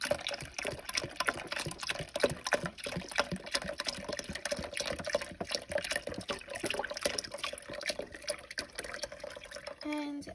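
Low sodium beef broth poured into a slow cooker around a corned beef: a continuous splashing, trickling pour runs throughout, with a brief clink at the very end.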